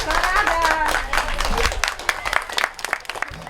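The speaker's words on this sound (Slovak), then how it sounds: "ešte raz velikánsky potlesk chalaní, dievčatá, ruky hore" Crowd applause for the winning team at a volunteer fire brigade mayor's cup competition, a dense burst of clapping that thins into scattered claps, with a loudspeaker voice talking over it.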